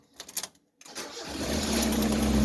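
A Mazda Miata engine, one that had trouble starting, cranks in a few quick bursts, pauses briefly, then catches and settles into a steady, loud running idle close by.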